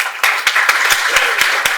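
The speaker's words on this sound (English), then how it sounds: "Can we have a round of applause for Mohammed" Several people clap in a lecture room at a university class session, a short burst of distinct claps in an uneven rhythm, fairly close and loud.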